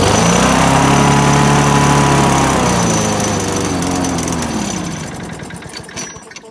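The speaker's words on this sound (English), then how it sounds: "Let's see if I can get it to run at a lower idle, and then I'll let it run dry" A Tecumseh engine on a Craftsman lawnmower runs loud and close, its steady drone sagging in pitch as it runs out of fuel before sputtering down and dying near the end.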